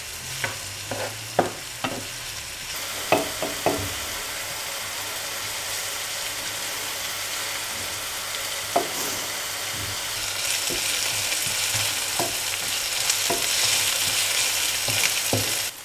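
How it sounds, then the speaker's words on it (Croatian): Onions sautéing in a frying pan, a steady broadband sizzle with sharp clacks of a utensil stirring against the pan early on, the frying growing louder and denser toward the end. "Sad luk treba izdinstati"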